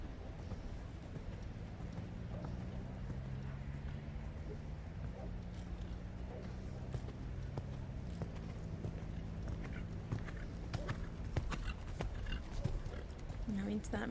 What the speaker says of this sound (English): Now into that medium canter.